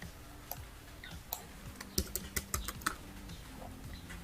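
Quick bursts of clicking keystrokes on a computer keyboard as names are typed in, fairly close and irregular, with short pauses between runs and no voices.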